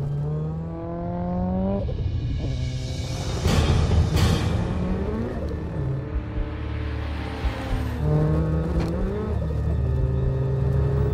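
A modified Ford Sierra record car built for 200 mph accelerates hard, its engine climbing through the revs in several rising pulls with gear changes, loud and close throughout.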